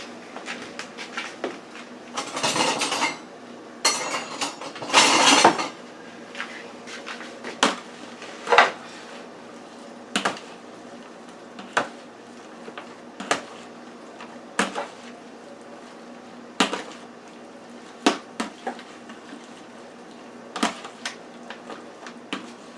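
Collard green salad is tossed with Italian dressing, giving rustling leaf sounds early on and then a steady run of irregular, close clicks and knocks from utensils against the bowl.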